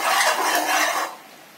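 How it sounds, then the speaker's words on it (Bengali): A spoon scrapes steadily around a pot of melting jaggery being cooked down for murki, a close, busy stirring rasp that fades out near the end. "নাড়তে হবে তা না হলে গুড়টা ধরে যাবে নিচে"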